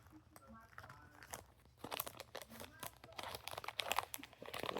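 Paper receipt being crumpled and crinkled close by in a series of crisp, irregular crackling bursts, with faint chewing and low background noise.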